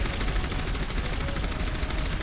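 Orisa's minigun in Overwatch fires in a steady, unbroken stream of rapid shots for the full couple of seconds, loud and dense with mechanical rattle.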